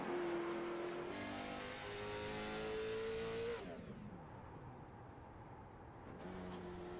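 Heard from the cockpit of a Pro American Late Model race car at Concord, the engine holds a steady droning note, then cuts off entering turn 1, leaving a quieter rush of wind and rolling noise before a faint tone returns.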